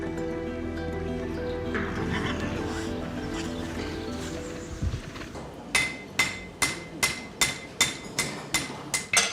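Farrier hammering horseshoes at the Saumur farriery of the Cadre Noir, a steady run of sharp, ringing metallic strikes close by, about ten evenly spaced blows, following a stretch of busy ambient noise with horses nearby.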